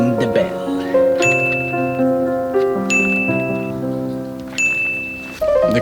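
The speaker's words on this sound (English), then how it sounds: "Let's ring the bell." A bell rung at a coffee plantation outside Huatulco, Mexico, sounds in several close, bright strikes whose overlapping metallic tones ring and decay into one another.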